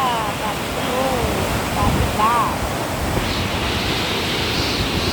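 Waves of the Indian Ocean wash in as a broad, continuous roar mixed with wind buffeting the microphone, and faint voices rise briefly over the surf.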